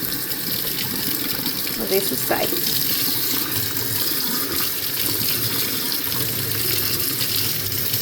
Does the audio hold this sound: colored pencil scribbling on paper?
no